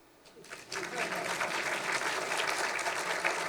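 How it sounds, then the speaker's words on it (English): An audience at a book launch breaks into applause that builds quickly from quiet and then holds as a full, steady round of clapping. "Time for you to clap."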